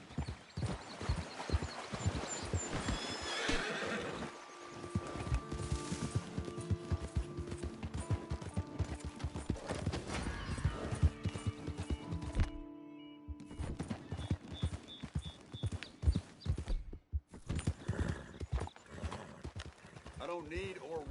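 A horse in a Red Dead Redemption 2 scene clip-clops along with rhythmic hoofbeats and lets out a neigh, while characters talk and music plays.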